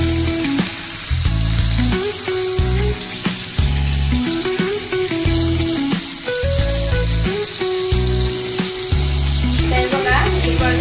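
Bangda mackerel frying in a pan in Konkani Malvani style crackles and sizzles loudly and close the whole time, a continuous spitting hiss under steady background music.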